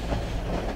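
Train in the video game Cry of Fear: a brief, steady rumble of a moving railway car with a low, continuous rolling tone and no voices.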